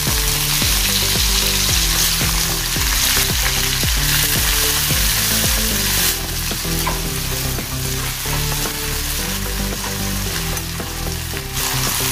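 Steady, loud sizzling of finely diced potatoes frying in hot oil with cumin, with occasional stirring clinks and scrapes throughout.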